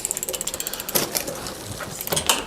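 A Giant Cypress comfort hybrid bicycle's derailleur ratchets and clicks through gear shifts, first as a quick regular series of sharp ticks, then as a few louder, irregular clunks of the chain moving across the cogs, close and with no voices.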